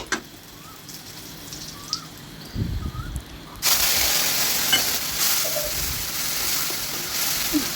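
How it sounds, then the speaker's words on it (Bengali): Dry red chillies dropped into hot oil in a wok for tempering: a few soft knocks, then a sudden loud, continuous sizzle that carries on steadily to the end. "এদিকে আমার কড়াই গরম হয়ে গিয়েছে। শুকনো লঙ্কা যখন আমি দিয়ে দেব তেল"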